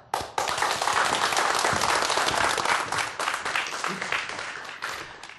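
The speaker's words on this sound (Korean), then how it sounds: "큰 박수로 무대 위로 모셔보죠." Lecture audience bursts into applause as a researcher from the Electronics and Telecommunications Research Institute is welcomed on stage for a talk on electrochromic technology, dense clapping starting abruptly, holding steady, then thinning out toward the end.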